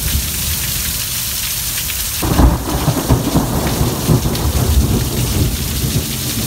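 Heavy rain and rolling thunder of a lightning storm in a video game, steady downpour hiss that jumps into a loud, rumbling thunderclap partway through and keeps crackling.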